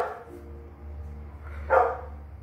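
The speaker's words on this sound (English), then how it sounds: "Now he's gonna give a few barks out there to let everybody know it's dinner time" A dog outdoors at dinner time gives one clear, moderately loud bark after a faint earlier yip, with quiet low background noise between.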